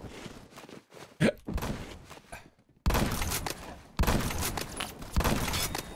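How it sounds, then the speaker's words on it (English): Gunfire and a grenade in the video game Phantom Forces, with bursts of rapid shots, a sharp blast and thumps that come and go, stopping briefly before the firing resumes loud and dense. "That's a grenade."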